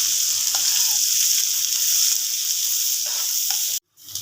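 Chopped onions sizzle steadily in hot ghee on a tawa after okra has been fried and removed, a dense close frying hiss with faint stirring clicks, cutting off abruptly near the end.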